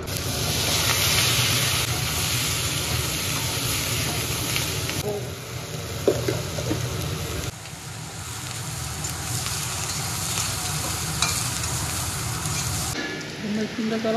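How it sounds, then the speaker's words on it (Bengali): Eggplant slices fry lightly in oil left over from frying pond fish, giving a continuous close sizzle and hiss with some faint clatter, while heavy rain falls outside; a voice is briefly heard. "এখন মাছ ভাজা তেলে বেগুনগুলো হালকা করে ভেজে নেবো।"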